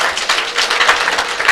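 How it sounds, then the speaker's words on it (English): Conference audience at a gender-based violence practitioners' gathering clapping to welcome visitors, a dense, steady patter of many hands held close and fairly loud throughout, with no talk over it. "clap hands and welcome all the visitors"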